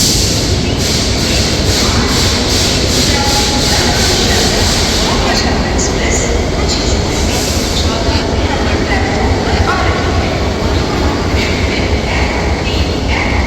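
The Maa Tara Express (13187) sits at Sealdah station, giving a loud continuous rail rumble with clattering wheels and some squealing under a noisy platform din. Voices mingle into the background.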